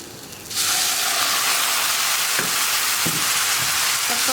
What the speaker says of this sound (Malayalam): ഞാൻ ഇതിലേക്ക് കുറച്ച് തിളച്ച വെള്ളം ചേർക്കാൻ പോവാണ്.